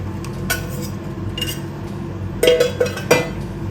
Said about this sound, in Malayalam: ഇനി കൈ എടുക്കാതെ ഇളക്കണേ.